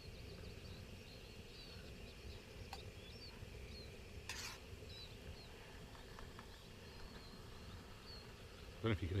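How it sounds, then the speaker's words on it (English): Water boils and bubbles in a Jetboil pot on a camping stove in a forest wildcamp, a faint, steady fizzing hiss with soft crackles throughout and a brief voice at the very end. "I don't know if you can hear that, it's boiling already on the bottom. Bubbling."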